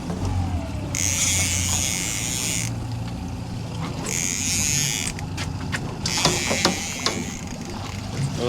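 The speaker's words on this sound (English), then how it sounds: "Just trying to maneuver the boat here a little bit." Fishing boat motor on the Washington coast whines steadily at close range as the boat maneuvers during salmon fishing, with intermittent higher buzzing surges and mechanical clicks over a low rumble.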